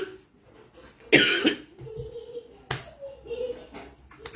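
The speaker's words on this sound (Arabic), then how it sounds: "صدري كتني بالكحه" Two harsh chest coughs from a person with a cold, one hard burst then a second shorter one a moment later, heard up close among quiet talking.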